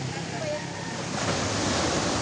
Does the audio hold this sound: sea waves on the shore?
yes